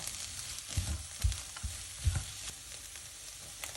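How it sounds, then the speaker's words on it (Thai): Egg stir-fried with carrot and onion in a pan sizzles softly, with several scraping stirs of a spatula heard close up. "หลังจากที่เราเอาไข่ลงไปผัดแล้วนะคะ เราก็ใส่แครอทกับหอมหัวใหญ่ลงไปนะคะ"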